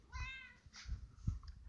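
A cat meows once in a short, rising-and-falling cry near the start, followed by quieter shuffling and a soft thump close by.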